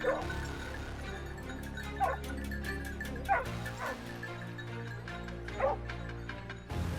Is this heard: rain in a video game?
no